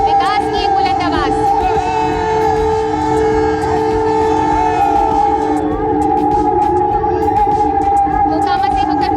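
A train horn sounds on the Munger Ganga rail bridge, a loud sustained multi-tone blast that holds steady for the full stretch over a rumbling background, with faint voices underneath.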